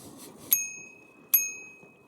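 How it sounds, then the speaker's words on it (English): A bicycle bell rings twice, two bright metallic dings with ringing tails, about a second apart, over quiet background. "give me a ding on my bell"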